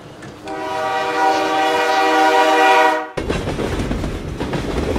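A loud train horn blares steadily for about three seconds, then cuts off into the rumbling, rattling noise of a moving train.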